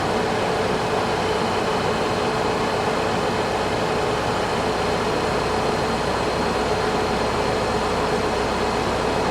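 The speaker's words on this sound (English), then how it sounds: "Here goes the loader. We're just going to go all the way up with it." A TYM T654 tractor idling as its self-leveling loader raises all the way up, giving a steady, even mechanical drone with a hydraulic whine and a faint constant tone, loud and unbroken throughout.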